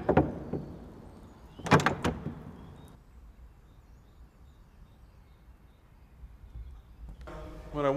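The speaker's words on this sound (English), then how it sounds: "when I was dropping the door handle, I would wait and allow the sound to ring out completely" A metal castle door latch handle is dropped twice in quick succession, giving bright clanging strikes that ring out and decay into a long quiet tail in a silent room, with faint rattling near the end.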